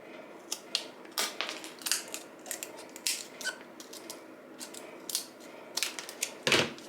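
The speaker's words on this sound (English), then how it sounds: "I guess the scissors doesn't work too bad." Scissors cut material for a Dollar Tree sign in a close series of crisp snips and clicks, irregular and repeated throughout, with no talking.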